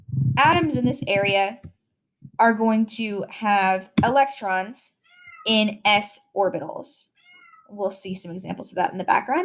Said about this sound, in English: You can probably hear my cat yelling right now.